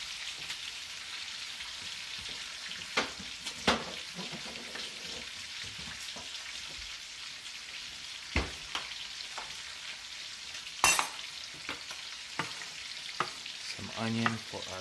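Potatoes frying in a pan with onion being cooked in, a steady sizzle running throughout with intermittent scraping clicks and clatters of stirring, fairly near and with no voices.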